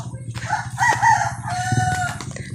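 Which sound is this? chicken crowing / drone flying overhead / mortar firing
chicken crowing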